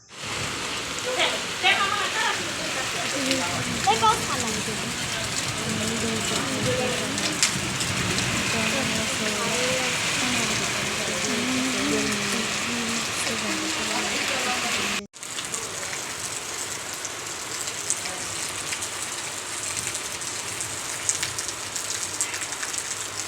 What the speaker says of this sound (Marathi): अशा प्रकारे पाऊस झाला.